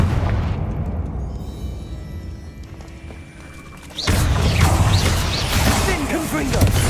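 A Confringo fire-blast spell in Hogwarts Legacy bursts with a sudden loud boom and whoosh after a quieter build, followed by sustained crackling blast noise and swishing effects.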